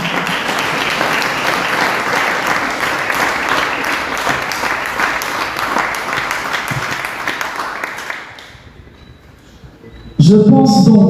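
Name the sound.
applause after a court appeal decision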